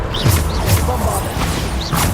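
Bombarda blasting spells cast in combat in the video game Hogwarts Legacy, a series of sharp explosive bursts and thuds layered over busy game effects.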